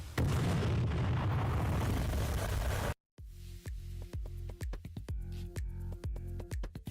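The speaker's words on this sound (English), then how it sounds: "just in time for the tower to explode and send us into hell." A tower explodes in a video game with a loud, roaring rumble for about three seconds, then cuts off abruptly to a brief silence, followed by a steady rhythmic pulsing pattern.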